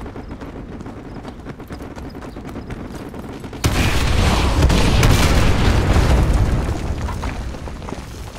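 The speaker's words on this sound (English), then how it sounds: "Artillery inbound." Artillery barrage in the video game Call of Duty Modern Warfare 2, loud continuous rumbling booms that swell sharply partway through into a dense, roaring wall of explosions with crackling debris.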